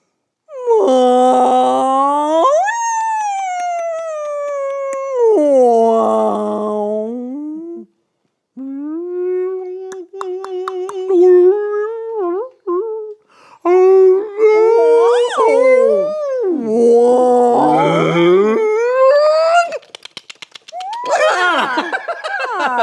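A person imitates a whale call with long, sliding howls and moaning wails, loud and close, broken by short pauses over about twenty seconds.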